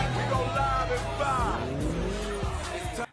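Street race cars from the 2003 film 2 Fast 2 Furious: loud engines whine and roar while tires squeal and skid, with shifting pitch as the cars pass, under a dense, busy soundtrack.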